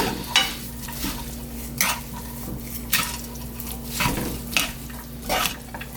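Soybean sprout japchae with two spoons of sugar being tossed in a pan, five distinct scraping stir strokes at a steady rhythm over a soft sizzle and low hum, close by.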